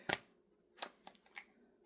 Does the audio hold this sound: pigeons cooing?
no